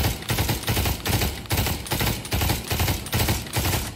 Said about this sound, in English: Let's go ahead and shoot.